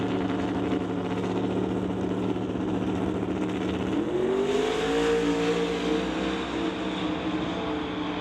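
Drag race cars idle loud and steady at the strip, then one engine revs up with a rising, sustained roar that holds to the end, dense and continuous with no talking.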